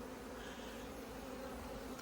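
A warm honeybee hive colony with new brood gives a dense, steady buzzing drone up close, continuous and unbroken throughout with no voices.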